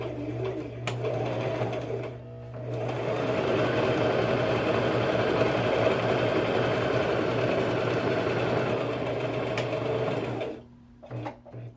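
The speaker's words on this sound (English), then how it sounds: "we'll sew a 1/4 inch seam across the top there" A sewing machine runs steadily as it stitches a quarter-inch seam across the top of a fabric face mask. The motor hums continuously for about eight seconds, close and clear, and winds down to brief stops at the end.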